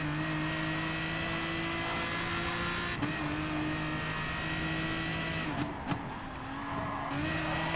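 Toyota FT1 Vision Gr.3 race car in Gran Turismo Sport at Suzuka Circuit, its engine holding a steady high drone with brief dips around gear changes, loud and continuous throughout with no talk.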